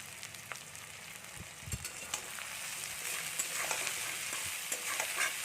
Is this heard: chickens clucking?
no